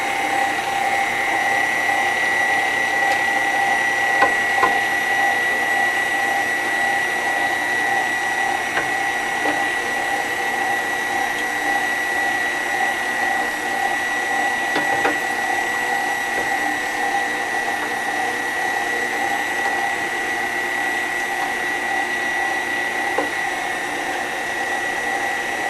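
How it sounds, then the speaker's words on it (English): A KitchenAid mixer fitted with a food mill attachment grinds apples into sauce, a steady mechanical whir with a high whine and occasional faint clicks running continuously and evenly, close by with no talk. "we're going to use the KitchenAid today"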